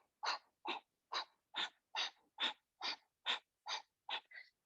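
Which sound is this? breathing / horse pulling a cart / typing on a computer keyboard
breathing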